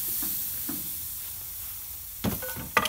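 Pork loin is laid on the grate of an Old Smokey charcoal grill opposite the coals, bringing a close sizzle and a few scraping clanks of metal over a steady hiss.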